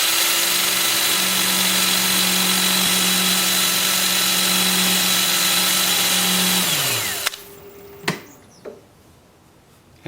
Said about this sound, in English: I'm going to sand those while it's spinning in reverse.